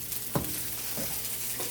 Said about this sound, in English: this is just going to be sauteed for a few minutes to just release all of that flavor